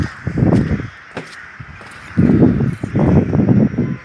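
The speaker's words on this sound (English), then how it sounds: "this is the attack of birds" Crows cawing in a noisy mass over Bacau, harsh calls coming in dense bursts and pausing briefly in between, with a constant rushing background.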